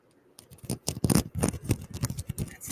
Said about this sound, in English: That's a nice selenite sound.